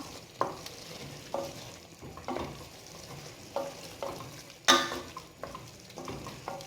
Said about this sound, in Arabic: نخليوها طيب يطيب الدجاج ونحيدوه، عاد نخليوها البصله تتحمر وتعلق